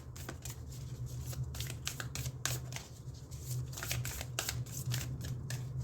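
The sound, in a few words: shuffling a deck of cards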